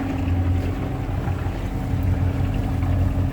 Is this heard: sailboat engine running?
yes